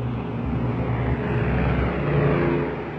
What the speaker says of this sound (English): I heard the roar of a plane.